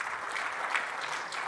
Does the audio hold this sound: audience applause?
yes